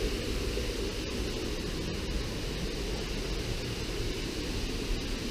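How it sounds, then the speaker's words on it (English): A waterfall swollen after heavy rain on a walk near Hewenden viaduct, giving a steady, loud broadband roar that holds constant throughout with no talk. "What a superb waterfall."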